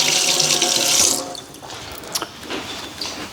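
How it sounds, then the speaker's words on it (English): Tap water runs over freshly scraped mussels in an outdoor kitchen, a steady loud rush of water for about a second before it drops to quieter splashes, drips and handling noises. "scrape all the barnacles off, and then give them a good wash"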